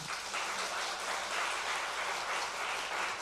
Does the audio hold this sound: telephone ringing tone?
no